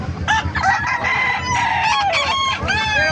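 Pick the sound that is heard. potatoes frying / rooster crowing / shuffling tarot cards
rooster crowing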